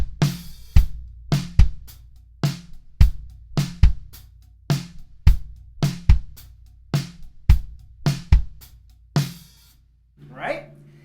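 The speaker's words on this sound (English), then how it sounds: "Now we're going to accent with the shank of the stick every downbeat." Steady drum groove on a kit, with loud kick and snare hits and hi-hat accents played with the shank of the stick on every downbeat, in an even driving rhythm; a brief voice comes in at the end.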